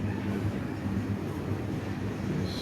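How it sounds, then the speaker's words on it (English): A train rumbles steadily in the background, a low continuous droning roll that stays faint and even throughout. "Maybe the train's messing with shit."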